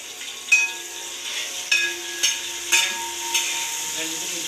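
Chopped garlic, ginger and green chili frying in a pan for chicken curry, a steady sizzle broken by several sharp knocks and scrapes of stirring.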